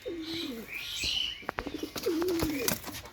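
Pakistani teddy pigeons coo in two clear, rolling phrases close by, with faint chirps and small rustles between them and no talk.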